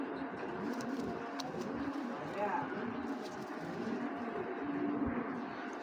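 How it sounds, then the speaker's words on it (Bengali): A pair of big-size racer pigeons coos softly at a pigeon farm, with low, steady calls running through the background and a few faint clatters. "চলুন কবুতর দুটো একটু দেখাই না দর্শক"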